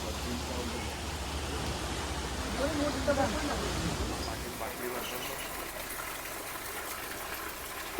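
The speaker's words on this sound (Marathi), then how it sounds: "हे झऱ्याचं पाणी येतं डायरेक्ट." Spring water seeps and flows at a temple site near Ganpatipule, a steady soft gushing wash that thins out partway through, with people talking nearby.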